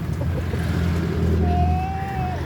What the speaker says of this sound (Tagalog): Bilis ni Lodi mag-drive